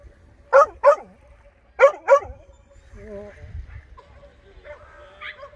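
A small dog barks outdoors at a seaside headland, two quick pairs of sharp yips close by, followed by softer whimpering and scattered noise.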